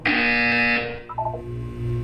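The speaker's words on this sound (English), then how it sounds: "You will hear a buzzer." Electronic buzzer in the game Portal 2, a loud sustained harmonic tone lasting under a second, then a quieter burst of short warbling beeps over a steady low hum.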